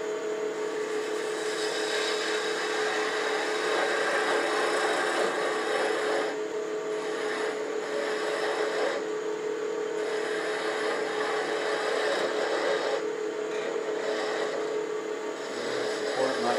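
A small gouge cuts wood on a spinning lathe while a shawl ring and pin are being turned, giving a steady, continuous scraping rasp with slight chatter and faint pauses as the tool shifts.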